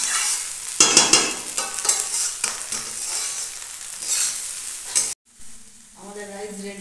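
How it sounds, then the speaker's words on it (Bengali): Rice and salt are stirred in a frying pan, with scraping spoon strokes and a steady sizzle for about five seconds before it cuts off abruptly and soft music follows. "ভালো করে নাড়াচাড়া করে মিশিয়ে নিন"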